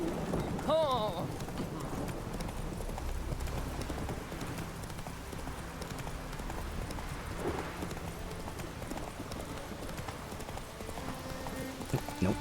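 Galloping hoofbeats of the horse Roach in The Witcher 3, a steady rhythmic clip-clop with a brief whinny near the start, while a player talks over the gameplay.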